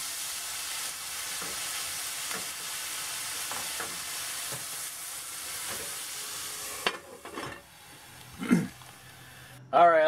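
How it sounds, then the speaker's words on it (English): Burgers sizzle steadily on a heated stovetop grill in an RV kitchen, a continuous frying hiss with scattered crackles and pops, followed by a few louder clatters and bumps near the end. "We'll let that heat up and we'll throw the burgers on"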